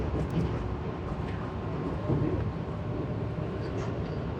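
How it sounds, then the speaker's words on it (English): Vande Bharat Express pulling away from Dadar station in Mumbai, a continuous broad rumble and hiss of the train accelerating, steady and moderately loud throughout with no talk. "That was a very fantastic departure of a train from Dadar station."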